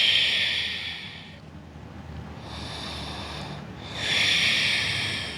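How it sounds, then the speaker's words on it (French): Slow, hissing yogic breaths during a gentle vinyasa yoga session, two long airy exhalations near the mic separated by a quieter inhalation, with no talking. "Reste avec tes respirations Ujjayi fluides."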